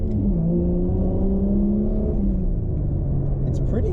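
A Ford AU Falcon's Intech engine revving steadily with a low, droning rumble, its pitch rising and falling slightly over a few seconds.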